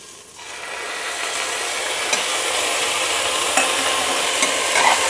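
Ground paste of coriander, cumin, garlic, chilli, green chilli and onion stirred into jackfruit and onion browning in a pan, producing a continuous close sizzle and scraping stir that builds slightly after a quiet start, without talk.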